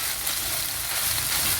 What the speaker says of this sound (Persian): کاملا مخلوط میکنم و چند دقیقه تفش میدم.